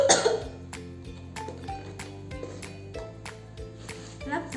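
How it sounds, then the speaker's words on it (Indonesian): A person gives a forceful, spontaneous cough to clear phlegm, demonstrating the effective-cough technique: several sharp, close coughs and throat-clearing bursts over a steady low background hum. "Batuk dengan spontan dan kuat."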